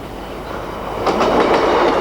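A Class 156 Sprinter diesel multiple unit rolls past on Britain's northeast coast line, a steady rumble swelling into rhythmic clickety-clack of wheels over rail joints.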